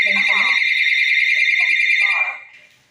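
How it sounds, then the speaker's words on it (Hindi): A Hikvision AX Pro wireless alarm panel, set off by a PIR motion sensor, blares a loud, steady electronic siren tone for about two seconds before fading, with a voice talking faintly beneath it. "और उसके बाद जो हमारा PIR सेंसर है उसको डिटेक्ट करवाते हैं। अलार्म,"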